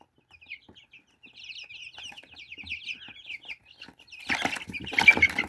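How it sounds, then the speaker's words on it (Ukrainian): A large, quiet, calm breed of chickens clucks in a soft, steady run of chatter, then a louder burst of flapping wings and scuffling near the end. "Це дуже гарна велика порода курей, тиха, спокійна"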